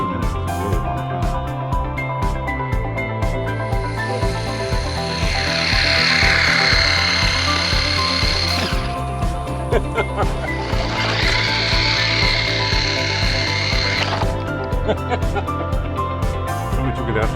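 A DEERC 302E 4WD brushless RC car driving on a golf course and through sand traps gives two high-pitched motor whines of several seconds each, set apart by a short gap, over a steady background bed.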